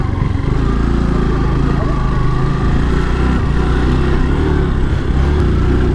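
A motorcycle engine on a mountain ride to Lakuri Bhanjyang, running steadily with a loud, constant low drone and rumble blended with heavy wind buffeting, with no clear breaks.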